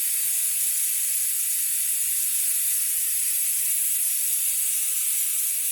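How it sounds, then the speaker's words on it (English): Steady, loud hiss of a regular air compressor feeding air into a skinny tire to seat the bead, a continuous airy rush without breaks throughout. "This is just a regular compressor"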